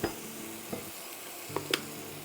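Dried oregano blooming in oil in a pan, a soft, low steady sizzle with a couple of brief utensil clicks near the end.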